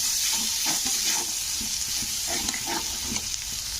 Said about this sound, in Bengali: এবারে এখানে আমি 1 চামচ আদা রসুনের পেস্ট দিয়ে দেব। পেস্টটা দিয়ে একটু কষে নিতে হবে।